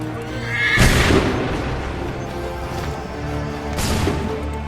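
Soldiers fire a musket volley in the video game Assassin's Creed III, with a heavy boom and crash close by, a second blast following a few seconds later, and horses whinnying in the mix.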